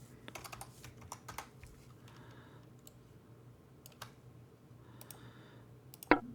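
Typing on a computer keyboard, scattered bursts of light key clicks with short pauses between, close and fairly quiet, ending with one sharper louder tap.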